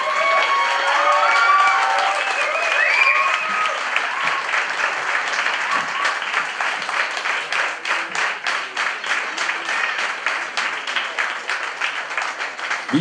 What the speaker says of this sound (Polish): Prosimy gromkie brawa nieustające jeszcze.